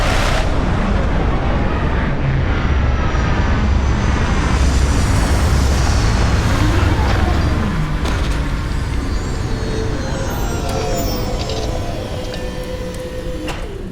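Spaceship landing in Starfield: a loud, continuous roaring thruster rumble with broadband hiss and sweeping tones, steady for most of the span and easing slightly toward the end, with no talk over it.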